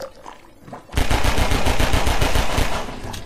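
Rapid automatic gunfire from the video game Half-Life 2, played on hard difficulty, starting about a second in and continuing as a loud, dense burst of repeated shots to the end.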